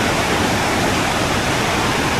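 Rushing river water beside a bridge on the trek to the Valley of Flowers in Uttarakhand, a loud, continuous, dense roar with no pauses.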